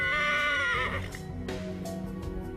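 A stallion whinnies loudly and close by, one long wavering neigh that fades after about a second, followed by quieter stable noise and faint movement.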